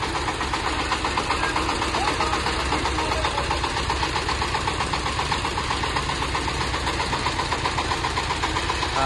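A small single-cylinder, 22-horsepower mini tractor engine idles close by with a steady, rhythmic chugging and knocking that continues throughout without pause.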